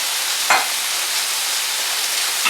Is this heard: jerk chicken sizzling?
yes